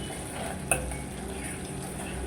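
Butter cooks down into ghee in a pot, giving a soft continuous bubbling sizzle with one sharp clink of a utensil against the pot partway through.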